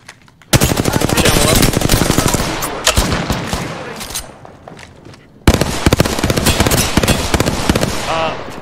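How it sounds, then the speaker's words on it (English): Enemy gunfire in a video game, long loud rapid automatic bursts that stop briefly and then resume, close and dense, with a short gap of near silence between the two bursts. "The enemies are shooting at me."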